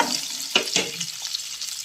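Potatoes with spices are stirred in a frying pan for a dry potato dish for a fast, with a faint steady sizzle and two sharper scrapes of the spoon close by.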